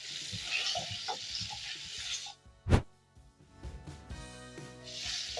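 Liver sears in cooking oil in a pan for a liver masala, a moderate frying hiss that fades, broken by a sharp clatter of stirring, then builds back up.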